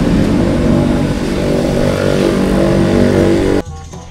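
A motorcycle parked on its center stand runs loud and close in a steady, throbbing drone, then cuts out abruptly near the end, leaving near silence.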